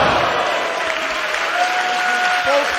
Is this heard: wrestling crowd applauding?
yes